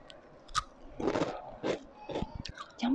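Close, crisp crunching of a salted egg yolk snack being chewed, a series of brittle bites and munches in quick succession with no talking.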